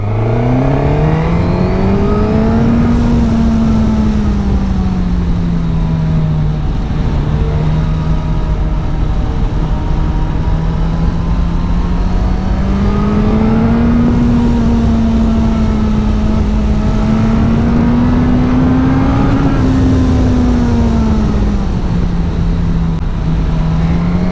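A loud Suzuki GSX-S 1000 GT sport-touring motorcycle engine revs continuously, its pitch rising and falling in long sweeps, close and steady with no talking.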